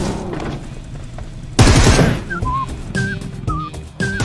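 Shots in a shooting video game crack out loud and close in a sudden burst, followed by short whistling tones and lighter pops against game noise.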